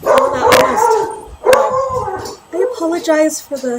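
Excited dogs bark, yip and howl in bursts close by, just back home, while a person talks over the commotion.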